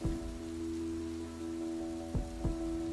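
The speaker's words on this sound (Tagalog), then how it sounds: "Habang hinihintay naming tumila ang ulan" Steady rain patters in the background on a mountain hike at Mount Kiamo, Bukidnon, with a couple of brief heavier splashes standing out near the end.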